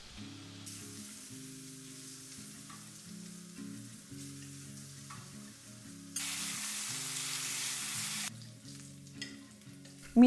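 Onion and tomato gravy simmers in a covered pan with a soft, steady sizzle under gentle background music, and a brighter hissing burst swells midway before settling.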